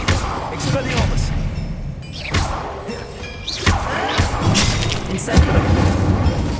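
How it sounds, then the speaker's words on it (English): An Expelliarmus spell is cast in combat in Hogwarts Legacy, with loud booming magical impacts, whooshes and thuds in quick succession amid battle sounds, close and punchy. "Expelliarmus!"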